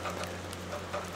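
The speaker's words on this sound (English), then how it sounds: "water is dripping down onto that" Rainwater dripping onto metal flashing above a house window, a faint steady patter of drops with soft irregular taps over a low background hum, no voices.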